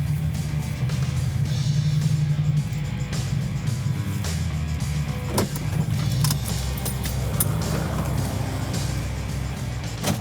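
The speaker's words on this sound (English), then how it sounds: "This is the 1970 Dodge Challenger RT SE 440 Magnum, one of 733 ever made" A 1970 Dodge Challenger R/T SE with a 440 Magnum V8 cruising on the road, its steady low engine rumble heard from inside the cabin, with a few light clicks and rattles over the drone.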